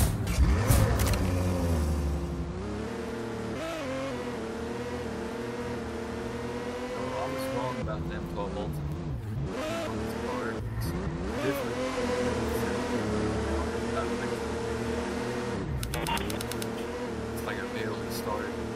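A sports car engine in the Roblox Jailbreak video game drones steadily, with the pitch rising and falling as it accelerates, and a voice talks over the engine in places.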